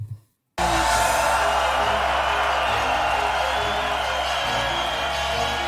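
A large concert crowd in Gothenburg roars and cheers in a dense, sustained wash of noise that starts abruptly after a brief quiet moment and holds steady at a loud level throughout.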